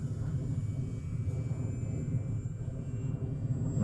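A 3D-printed PZL scale model airplane flies overhead, its engine giving a steady, continuous drone with a thin high whine that holds at moderate loudness throughout, with no voices.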